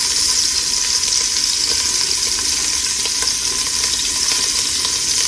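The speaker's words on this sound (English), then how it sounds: "We're going to let those sausages get nice and brown." Sausages browning in a pot for jambalaya sizzle loudly and steadily throughout, a close, dense crackle of frying fat with no pauses.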